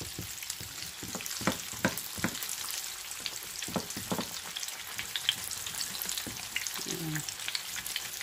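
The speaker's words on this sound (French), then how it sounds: "Nous allons laisser cuire sur l'autre côté aussi." Turkey and bread croquettes fry in a pan with a steady sizzling hiss and scattered crackles and pops, close and even in level, with no talking over it.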